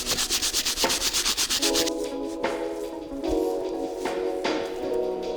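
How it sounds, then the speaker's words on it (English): A brass bristle brush scrubs the soles of 2008 Air Jordan 3 CDP Pack sneakers, making rapid, rhythmic rasping strokes up close that continue steadily with no voices. "I haven't touched it yet with the brass bristle. So go ahead and continue using this bad boy and get the soles fully cleaned up."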